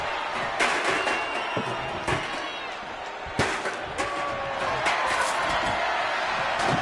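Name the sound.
arena crowd, from a video game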